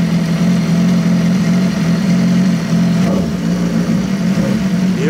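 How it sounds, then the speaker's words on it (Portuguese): A steady, loud BMW S1000 motorcycle engine idles throughout, a low rumbling drone that holds even with only slight variation. "E agora, tudo a moto, né? Dá uma ligada pra você ver."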